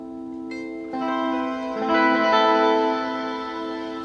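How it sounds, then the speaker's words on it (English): Electric guitar played through distortion while a Classic Audio Effects volume roller pedal is reviewed, sustained chords swelling louder partway through and ringing on alone without talk. "put on some distortion."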